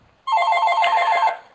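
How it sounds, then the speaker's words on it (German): A telephone rings once with a bright, warbling electronic trill lasting about a second, loud and close against a quiet room before fading. "das war mein Telefon mal daneben"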